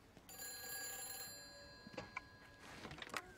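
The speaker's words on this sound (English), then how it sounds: "Nag-ring yung phone." A telephone rings inside the video game Everybody's Gone To The Rapture, a steady electronic bell tone with bright sustained harmonics, followed by a few fainter ringing bursts near the end, alone without talk.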